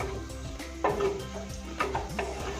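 Chicken sukka with curry leaves fries in a pan, a close steady sizzle broken by repeated scraping strokes of a stirring spoon against the pan and a few sharper clinks.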